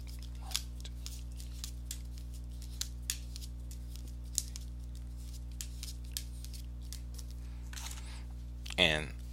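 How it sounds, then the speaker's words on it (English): Tarot cards being shuffled, giving faint scattered riffles and soft card snaps over a steady low hum, with a brief louder flutter near the end. "let me go ahead and give these cards a shuffle"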